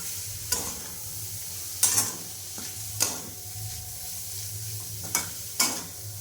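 Paneer bhurji fries in a pan with a constant low sizzle, broken by about six sharp spatula scrapes and knocks at irregular intervals. No one speaks.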